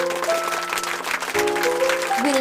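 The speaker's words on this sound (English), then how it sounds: "a big round of applause for our amazing winners and participants" A crowd claps warmly for winners and participants of a Mother's Day card contest, steady applause filling the whole moment at a fairly loud level, with tonal music running underneath.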